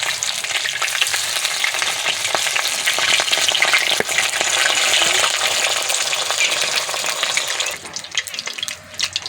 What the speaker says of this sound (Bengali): তো উল্টি পাল্টে ভালো করে ভেজে নেব।